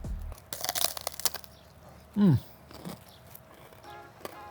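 A single crisp, crunchy bite into a fried pork rind (chicharron) close to the microphone, followed by a few quieter crackles and chewing sounds in an otherwise fairly quiet room.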